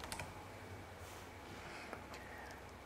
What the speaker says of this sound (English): click into the cell, and type the desired label